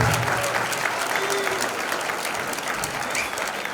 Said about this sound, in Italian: L'applauso, ragazzi.